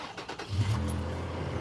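A Toyota 4.0 V6 in a 2012 FJ Cruiser TTSE turns over and catches, then settles into a steady, close idle with a brief rev, heard alone with no talk.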